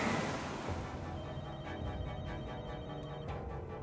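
A mobile phone rings in The Walking Dead: Michonne, a repeating electronic ringtone playing on its own with no talking, fairly quiet throughout.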